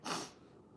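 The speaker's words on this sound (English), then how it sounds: "what's up with the sniffles?" A single short nasal snort or sniffle from a man with a deviated septum, sharp and close at first, then trailing off into quiet.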